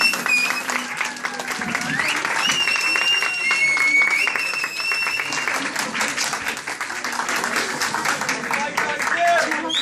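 Audience applauding after a poetry reading at a recital: steady, dense clapping that keeps going throughout, with voices speaking over it.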